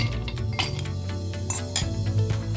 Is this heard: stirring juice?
yes